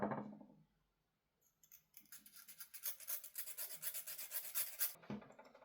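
A soft steel screw is thinned down with a file for a pistol slide kit, giving a steady rhythmic rasping of repeated quick strokes for a few seconds, close and fairly quiet, with no talking.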